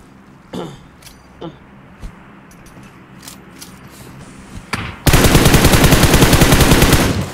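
Sporadic single shots and clicks in a video game give way to a sustained, loud burst of automatic fire that runs to the end; a voice is briefly audible early on.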